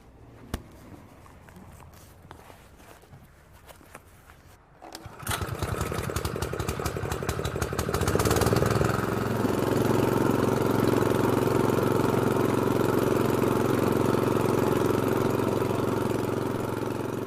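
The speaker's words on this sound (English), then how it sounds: "use a rotavator to break up and aerate the soil" A rotavator churns and breaks up dry lawn soil for aeration, its motor starting quietly, then building from about five seconds into a loud, steady mid-range drone that holds to the end with no talk.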